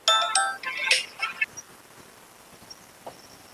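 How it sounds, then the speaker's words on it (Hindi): A bright electronic ringtone melody plays loudly for about a second and a half, then stops, leaving quiet room noise. "एक सेकंड, फोन आ रहा है"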